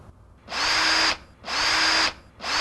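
A power drill drives screws during assembly of a Red Sea MAX S-Line aquarium stand, whirring in three close, even bursts with brief quiet gaps between them.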